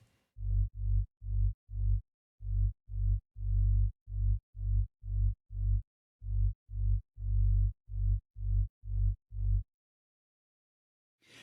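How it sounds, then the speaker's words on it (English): A bass track gated by a MIDI gate, triggered from a MIDI track, gives a run of about twenty short, punchy low bass notes in a steady rhythm, with a few longer ones, loud and alone before silence. "you can hear the sound of my bass track."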